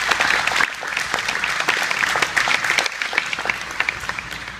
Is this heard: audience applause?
yes